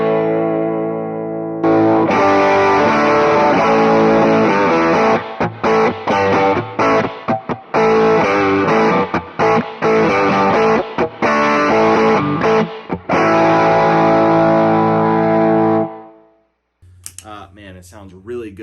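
Electric guitar through a pedalboard with fuzz and distortion, loud saturated riffing with choppy stops and restarts, cutting out near the end before a brief voice speaks.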